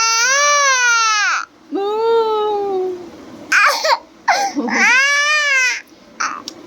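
A small child cries loudly and close by in long wailing sobs with short gasps between them, with brief babbling sounds.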